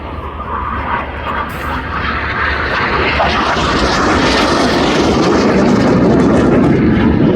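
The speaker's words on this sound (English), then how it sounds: "And the Red Arrows are the first and only team to use both renewable smoke and synthetic aviation fuel." Red Arrows jets fly a display at RIAT 2025, their loud engine roar building steadily and swelling to a full rushing blast as the aircraft pass close overhead.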